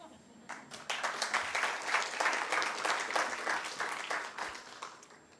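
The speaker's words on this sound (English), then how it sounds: "So I ask you to do that very difficult thing, to applaud yourselves." Conference audience applauding at a closing panel, a swelling round of many hands clapping that builds quickly, holds steady and tapers slightly over about five seconds, heard from within the room with no talking.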